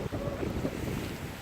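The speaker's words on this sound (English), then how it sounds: "sorry about the wind" Steady wind buffeting a microphone outdoors in Oak Point beside the Kennebecasis River, a continuous low rumbling roar with no pauses, close and dominant.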